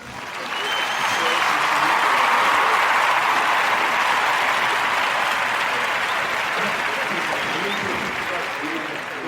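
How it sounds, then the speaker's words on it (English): A live crowd at an evening podcast taping breaks into sustained, dense applause that holds steady and close for about nine seconds before easing slightly at the end. "Listen to the crowd"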